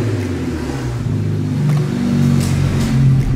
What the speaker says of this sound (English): this is what the car sounds like now